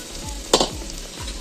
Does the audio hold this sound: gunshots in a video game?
no